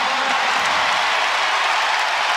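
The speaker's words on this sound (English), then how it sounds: "And the crowd goes crazy." A crowd at an NCAA women's basketball second-round game between Kansas State and NC State roars after an and-one basket, a steady dense wall of cheering and clapping.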